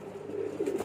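Racing pigeons coo in a brief, soft, close-up burst of low, throaty murmuring that swells slightly toward the end.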